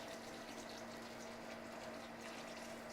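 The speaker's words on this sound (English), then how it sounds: "So we're just gonna water." Water pours steadily onto potted plants and square milk-crate planters in a greenhouse, a continuous close rushing hiss with no pauses and no voices.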